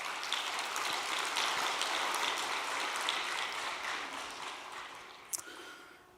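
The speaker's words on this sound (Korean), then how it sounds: "경주 복귀를 위해서 우리 격려의 박수를 보내주시기 바랍니다" Members of a Korean church congregation at an all-night service clap in encouragement, a dense rain-like patter of many hands that holds steady, then gradually thins and fades, with one sharp isolated knock near the end.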